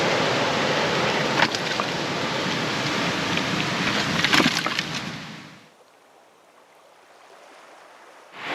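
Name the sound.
ocean swell surging through a sea cave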